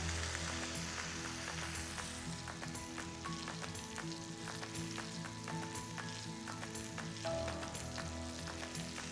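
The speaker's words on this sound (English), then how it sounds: "I've been basting and turning the cauliflower through the butter for about 15 minutes now" Cauliflower sizzles steadily in hot butter with rosemary while being basted and turned, a dense continuous frying crackle with scattered sharp pops and spoon clinks, close and fairly loud throughout.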